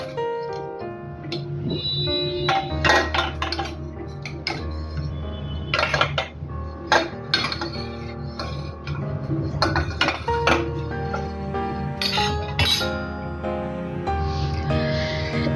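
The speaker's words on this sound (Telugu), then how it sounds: "ఈ మ్యాంగోలు అన్నీ కూడా వేరొక ప్లేట్లోకి తీసేసుకుంటే తొందరగా చల్లారిపోతాయి" Metal utensils clink and scrape against plates in an irregular run of sharp clatters, close by, as mangoes are moved onto another plate.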